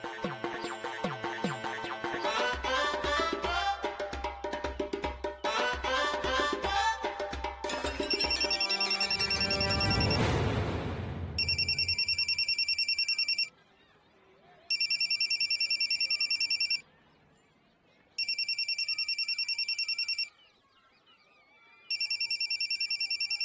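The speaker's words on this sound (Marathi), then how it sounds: "तो फोन लावतोय आणि तुमची रिंग वाजली" A telephone rings in a Marathi TV serial scene: after loud music, repeated electronic ring bursts sound in a steady on-off rhythm, clear and alone.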